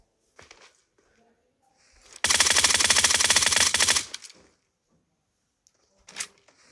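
A rapid burst of automatic gunfire in PUBG Mobile rattles for about two seconds, loud and close, with faint speech before and after.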